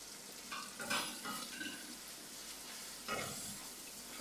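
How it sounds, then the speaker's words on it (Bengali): Spices fry in oil with onion and cashew paste for Bengali-style chicken changezi, a soft, steady sizzle with occasional stirring scrapes of a utensil against the pan, quiet and close, with no talk. "এই মশলাটাকে আবার একটুখানি করতে হবে, তেলের সাথে ফ্রাই করতে হবে।"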